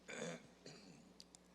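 A man clears his throat during a church sermon, a short rough burst near the mic followed by a couple of softer catches.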